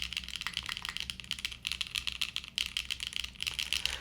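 Keys clack steadily on a Zoom 75 mechanical keyboard with an unmodded plate setup, a close, crisp, continuous run of rapid keystrokes in brief bursts with short pauses and no talking.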